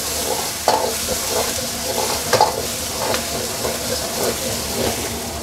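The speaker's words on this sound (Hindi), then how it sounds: "और ऑयल गरम हो जाए उसके बाद हम इसमें लहसुन डाल देंगे गार्लिक" Garlic sizzles steadily in hot oil, with a constant crackling hiss and a few louder pops and stirring clinks.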